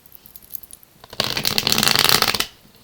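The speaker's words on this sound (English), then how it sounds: "We've got 2 more shuffles to go." Tarot cards riffle-shuffled in one quick burst, a dense, close crackling flutter lasting about a second, preceded by a few faint taps and handling sounds.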